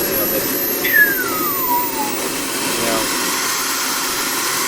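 A jet engine winds down, its high whistle sliding smoothly lower in pitch over a steady background roar.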